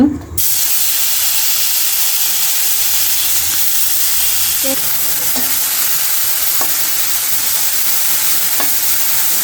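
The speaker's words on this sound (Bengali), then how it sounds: "মাছটি হলুদ মরিচ লবণ দিয়ে মেখে নিছন মাছটি বাজি করবো তেল দিয়েছন মাছটি দিয়ে দিব" Fish coated with turmeric, chili and salt fries in hot oil, giving a constant loud sizzle and hiss with a few faint clinks from the pan throughout.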